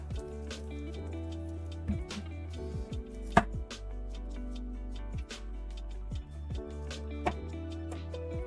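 Garlic cloves are smashed and then chopped with a knife on a board, giving a handful of sharp, separate thuds and clicks spread over several seconds, close and fairly quiet, with a sustained hum underneath and no talking.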